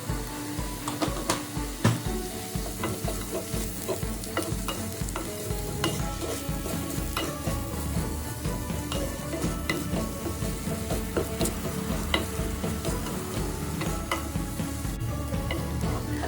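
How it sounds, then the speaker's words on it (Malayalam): Onions, green chilies and garlic fry for a mutton curry while a spoon stirs them in the pan. A steady loud sizzle runs throughout, with clicks and scrapes from the stirring scattered over it. "നമുക്ക് കുറച്ച് ഉപ്പും കൂടി ഇട്ടിട്ട് നല്ലോണം ഇത് ഇളക്കിയെടുക്കാം."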